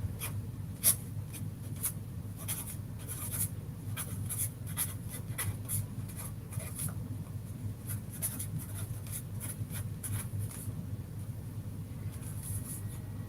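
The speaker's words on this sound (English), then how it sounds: "First thing I want to do is write it down." A pen writes a quote onto paper in a painting journal, steady close scratching strokes with brief pauses, over a low background rumble.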